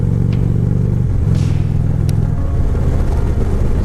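Harley-Davidson Road King Classic, an air-cooled 103 cubic inch six-speed belt-drive motorcycle, rumbling steadily while being ridden, a loud continuous low engine drone with slight shifts in pitch throughout.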